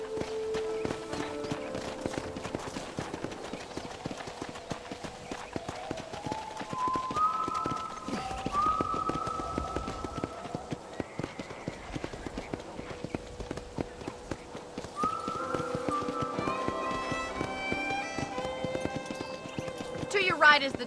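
Horse hooves clip-clopping at a steady walking pace in the video game Red Dead Redemption, with rhythmic close thuds under continuous character dialogue and game music.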